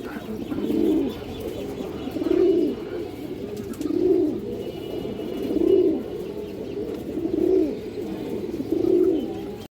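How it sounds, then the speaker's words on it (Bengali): Old-breed khoragola pigeons coo in a steady rhythm, with a throaty burst roughly every second and a half, close and clear, with no voices over them. "একজোড়া খরা গলা কবুতর আছে মাশাআল্লাহ,"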